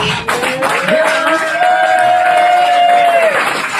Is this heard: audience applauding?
yes